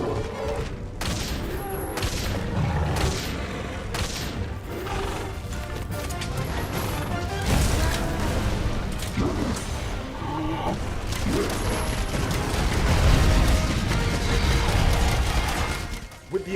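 A bowgun fires repeatedly at a monster in Monster Hunter World, its shots dense and loud throughout, mixed into heavy, continuous game action with booming impacts.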